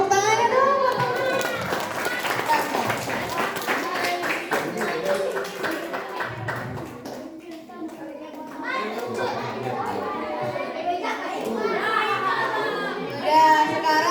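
Primary schoolchildren clap together at a school anti-bullying seminar, a steady stretch of rapid many-handed applause mixed with children's chatter and voices, fairly near and moderately loud.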